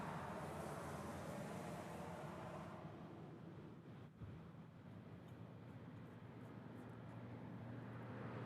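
Boeing 747 jet at Honolulu airport, a broad roaring engine rumble that is loud at first and then eases off to a steadier, quieter drone with a low hum beneath.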